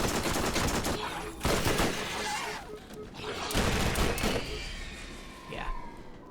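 Rapid SMG gunfire in the video game Borderlands crackles in dense, sustained bursts with brief gaps, loud and close throughout, mixed with other game noise.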